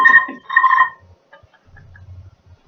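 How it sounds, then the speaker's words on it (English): A telephone rings indoors in two loud electronic trills, followed by quieter low thumps and faint movement. "Instead of that, the telephone goes."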